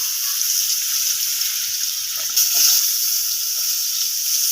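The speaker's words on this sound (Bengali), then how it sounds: "আলুগুলো আমি এরকম লাল লালভাবে ভেজে নেব।" Chopped potatoes frying in hot oil in a home kitchen, a dense, even hiss of sizzling that continues without break and swells briefly midway, with no talk.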